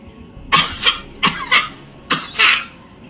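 Three separate bouts of coughing, each a pair of harsh, close coughs, with short pauses between them.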